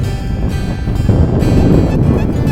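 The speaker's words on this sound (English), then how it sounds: "Quite windy, much colder than it looks." Strong wind buffets the microphone in an open field during a day of metal detecting in the UK, a loud continuous low rumble with gusting swells and no voices.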